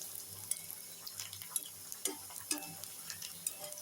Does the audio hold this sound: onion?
yes